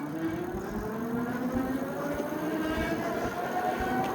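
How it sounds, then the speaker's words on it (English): A MeetOne Breeze Pro electric trike's motor accelerating on throttle only: a steady whine rising gradually in pitch over road and wind rumble, continuous and close, with no talk. "Let's do throttle only. See how that does."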